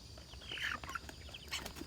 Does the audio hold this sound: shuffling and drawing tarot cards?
no